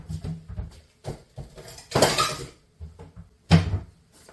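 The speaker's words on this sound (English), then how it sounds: "To grab a plate." A plate being grabbed from among dishes in a kitchen while cheesesteak sloppy joes cook, with several close clinks and clatters of crockery in short separate bursts and quiet gaps between them.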